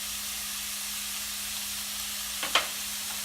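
Shrimp cutlet filling frying in a pan, a steady close sizzle and hiss, with a brief scrape or clatter near the end and a faint constant hum underneath.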